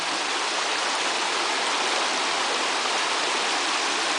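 A mountain creek runs above a dam as thin, braided streams spread over rock and scree. Its steady, broadband rushing fills the whole stretch at an even level, with no voices.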